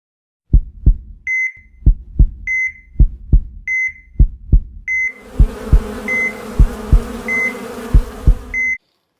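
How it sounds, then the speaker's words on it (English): Honeybees buzz as they fly out of the hive on winter cleansing flights. A steady, close buzzing is broken by a regular pulsing thump and repeated short beeps, and a denser hum rises partway through. "you can see the bees are coming out, taking their cleansing flights"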